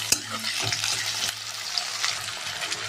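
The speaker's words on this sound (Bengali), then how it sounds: "পেঁয়াজ টমেটো ভালো করে ভেজে নেব।" Onion, green chillies and tomato frying in hot oil in a wok, giving a close, bright crackling sizzle with a few stirring knocks and a low steady hum underneath, no speech.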